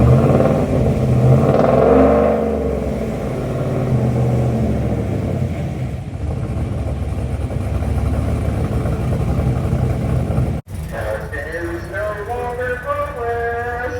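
A supercharged police SUV's heavy engine rumbles loudly and revs, then cuts off abruptly before settling into a lower running idle with a faint clatter.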